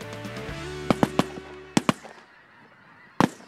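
Snow geese honk over agricultural fields, a held nasal call giving way to scattered sharp bursts of noise that punctuate the flock's fading cries.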